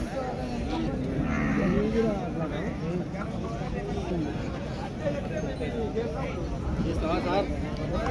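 A busy Saturday livestock market in Pebbair with cattle lowing among a constant hubbub of many voices chattering nearby.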